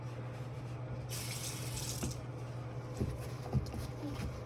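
Water runs from a tap into a sink in a steady, close hiss for about a second, then gives way to faint trickles and small splashes.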